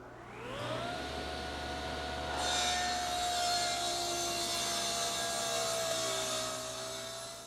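Wood scraps ripped lengthwise on a saw while building a rocking horse: a motor spins up with a rising whine, then a steady loud sawing drone and rasp of blade through wood holds, fading as the cut finishes.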